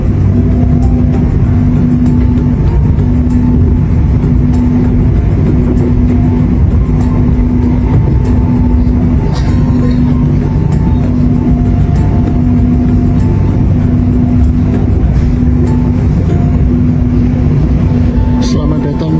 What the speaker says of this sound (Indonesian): kereta api Senja Utama Jogja masuk di stasiun Bekasi di jalur 3